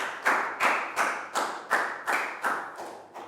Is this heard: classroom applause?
yes